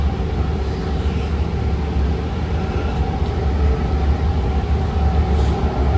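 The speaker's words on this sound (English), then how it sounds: "I think that's a Richmond bound BART train, the orange line that just passed us." A continuous low rumble and rolling hum of a Richmond-bound orange line BART train passing nearby near Fruitvale station in Oakland, steady throughout with no voices.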